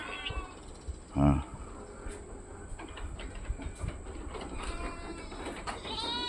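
Goats driven into their pen bleat, with one loud close cry early, then scattered, fainter calls mixed with rustling, movement and outdoor background.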